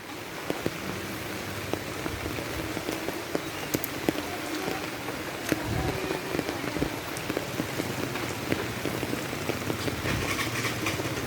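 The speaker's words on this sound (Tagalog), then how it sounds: "humina ng ulan ambon na lang" Light drizzle patters steadily on nearby surfaces, a dense crackle of small drops with scattered sharper ticks, continuous and even throughout with no talk.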